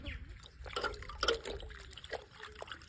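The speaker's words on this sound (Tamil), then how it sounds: "இது என்ன பண்ணணும்னா தண்ணியில் அலசணும்." Stained white cloth rinsed by hand in water during a watermelon chemical-dye test, with soft sloshing, trickling and dripping at close range under intermittent background voices.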